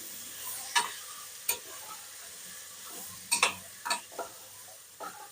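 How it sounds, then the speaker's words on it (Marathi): Rice sautéed in a pan with coriander powder, red masala and black masala for masale bhaat: a soft, steady sizzle broken by a handful of sharp spoon scrapes and clicks against the pan, with no talking. "लाल मसाला, काळा मसाला, तांदूळ टाकले. सर्व 1 मिनिटापर्यंत परतून घ्यायचे"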